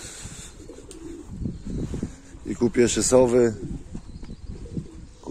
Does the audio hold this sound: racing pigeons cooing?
yes